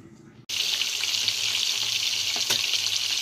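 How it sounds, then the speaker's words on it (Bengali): Pangas river fish, previously frozen, frying lightly in hot oil in a pan, a loud steady sizzle starting abruptly after a brief quieter moment and continuing without a break, with a couple of faint clicks near the end. "মাছগুলো একটু হালকা করে ভেজে নিচ্ছি"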